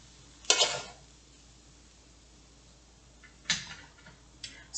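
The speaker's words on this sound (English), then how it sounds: "Sorry, I kicked the tripod." A camera tripod gets kicked by accident in a kitchen: one sharp metallic clatter with a short ring, then a quieter knock a few seconds later and a faint tap, all against near silence.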